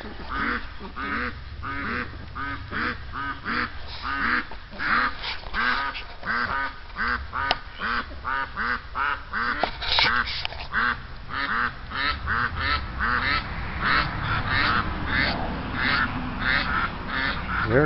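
Geese honk and call nonstop in a driveway, a dense chattering flock of quacking, honking cries close by and fairly loud.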